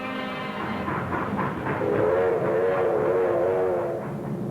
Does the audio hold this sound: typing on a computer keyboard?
no